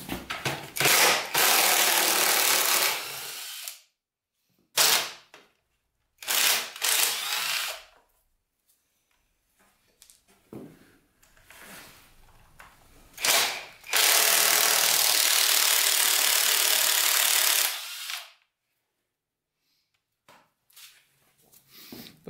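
Ratcheting and power-tool bursts work loose the exhaust pipe bolts on a heavily rusted, locked-up barn find dirt bike, several loud clicking runs of a few seconds each separated by quiet pauses and small metallic handling noises.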